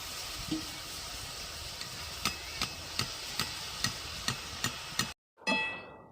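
Boondi batter frying in hot oil, a close steady sizzle marked by a series of regular sharp taps, one roughly every half second, then a brief silence and a renewed burst of crackling.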